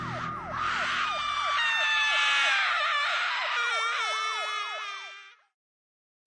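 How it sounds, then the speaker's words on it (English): A woman screams in terror as she is taken away in a speeding vehicle, caught on a door camera; shrill drawn-out screams ride over a fast yelping siren before cutting off abruptly. "a woman is heard screaming in absolute terror as she's swifted away in a"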